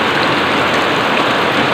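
Heavy rain pours down steadily in a dense, continuous hiss that stays loud and even throughout, with no voices over it.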